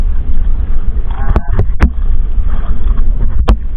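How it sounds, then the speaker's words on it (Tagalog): Heavy wind buffets the microphone over a constant low roar of rough sea, with a few sharp knocks and splashes against a small fishing boat. "Malakas na rin yung mga hangin kasabay ng mga alon."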